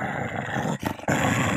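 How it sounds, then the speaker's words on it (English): A beagle growls while playing, a rough, close, continuous snarling rumble broken by a brief dip in the middle before resuming loudly; no one speaks. "Not growling at you, Miss Lady."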